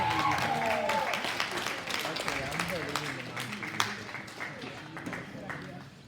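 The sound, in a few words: audience applause at cattle show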